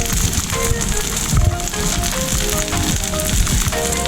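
French toast sizzles in a greasy pan with a dense, steady crackle and spitting close up. The frying noise stays loud and even throughout, with no talk.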